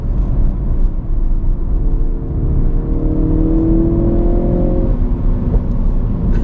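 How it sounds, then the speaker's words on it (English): A Ford Focus RS accelerates hard from inside the cabin, its engine roaring steadily with a rising whine, then backs off with a brief crackle as the throttle is released. "Man, that is so fun to just get on, let off before the corner and hear a little pop coming out."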